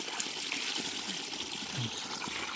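Water runs steadily from a natural spring being cleaned out, a continuous close trickle and gush that holds at an even level throughout with no voices.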